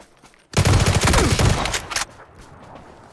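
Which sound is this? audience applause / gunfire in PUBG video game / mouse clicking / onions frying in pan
gunfire in PUBG video game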